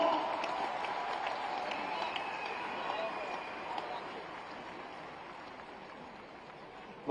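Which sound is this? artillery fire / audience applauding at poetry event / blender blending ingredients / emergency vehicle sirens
audience applauding at poetry event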